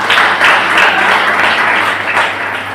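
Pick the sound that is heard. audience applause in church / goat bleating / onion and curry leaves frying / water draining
audience applause in church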